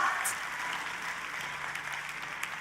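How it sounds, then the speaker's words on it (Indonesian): A church congregation in Jakarta applauds during a sermon, a short burst of many hands clapping at moderate volume that carries on evenly and fades slightly toward the end. "hari ini saya mau mendengar tepuk tangan yang paling meriah"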